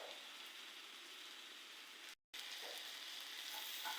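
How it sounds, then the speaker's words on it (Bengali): Ripe bitter gourd fries in a pan with a steady, quiet, rain-like sizzle that drops out briefly for a moment and then carries on evenly. "এখানে আমি পাকা করলা বসিয়েছি রান্নার জন্য"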